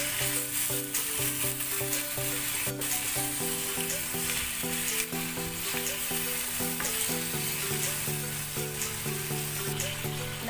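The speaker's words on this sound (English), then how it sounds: "itoast lang natin yung pork ribs yung sa may sugar. Pero low fire pa din po siya." Pork ribs coated in sugar sizzle steadily in a pan over low heat, a constant close frying hiss with faint stirring clinks, no voices.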